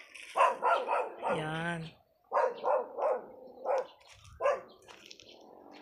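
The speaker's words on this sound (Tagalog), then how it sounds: "Tumatahol yung aso." A dog barks in quick bursts on a rural provincial farm plot among banana and fruit trees, several sharp barks close by, with a person talking over and between them.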